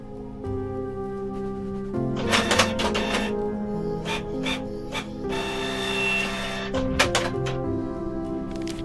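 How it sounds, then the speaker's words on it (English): A printer in the video game Kathy Rain 2 whirs and clatters as it prints pages, with repeated mechanical bursts and feed noises over a low steady background tone. "I'll have these printed"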